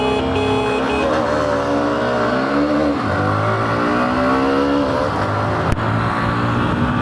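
Hero Xtreme 125R motorcycles, a 2025 and a 2026 model, launch side by side in a drag race. Loud, close engines rev and climb in pitch through repeated gear changes, with a sharp click near the end and no talk.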